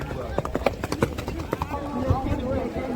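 Horse hooves clip-clop in a quick, uneven run during a rewal chal horse race at Dhanavada, Abdasa, Kutch, heard close under continuous excited commentary.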